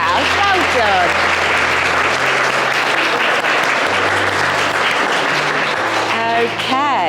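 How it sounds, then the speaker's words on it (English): Wedding guests applaud a couple for reciting their own vows, with warm, sustained clapping that lasts throughout and a voice speaking over it, along with a musical backing beneath. "She'll give them a little clap for doing their own vows."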